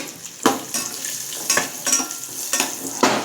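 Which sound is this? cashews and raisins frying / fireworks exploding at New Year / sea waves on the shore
cashews and raisins frying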